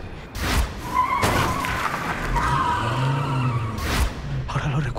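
A car skids sharply just before striking a pedestrian, tires screeching loud and close in a comedy sketch, with bursts of impact-like noise and a voice heard partway through.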